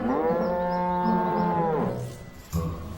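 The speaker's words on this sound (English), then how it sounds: "Yes, you're a lovely cow." A cow moos once in a long, loud, drawn-out low call in an animated children's show, tapering off before a brief softer sound at the end, with no talking.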